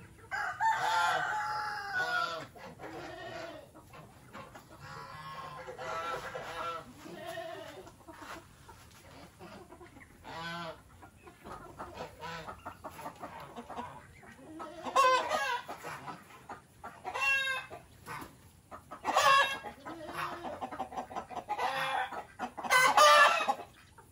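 On a farm after rain, hens cluck repeatedly and a rooster crows several times, close and loud, with bursts scattered through a quiet background.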